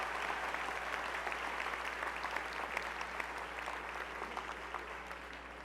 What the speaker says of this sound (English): give Professor Ron Smith one more round of applause for his accomplishment